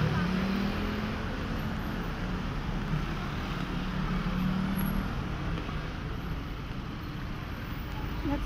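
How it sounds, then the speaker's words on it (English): Steady, dense peak-hour road traffic with many cars flows past in a continuous broadband roar, heard from nearby with no clear gaps and no single vehicle standing out. "That's why there are a lot of cars today."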